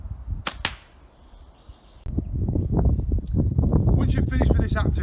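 Slingshot firing a paintball during a supervised archery and slingshot activity, heard as a sharp snap and short whoosh early on, followed by a sustained noisy rush of outdoor sound, with a voice speaking briefly.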